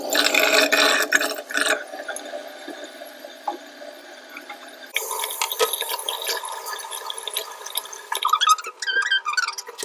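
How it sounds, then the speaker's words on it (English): Water splashes and runs at a sink during face washing, a broad close wash of spray that shifts in intensity in several bursts, with no talking. "I'm going to wash my face right now"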